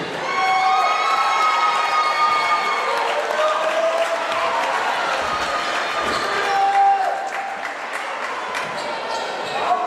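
A gym crowd cheers and applauds a youth boys' basketball team at a high school game, with continuous clapping, shouting and whistles alongside the thump of a bouncing basketball.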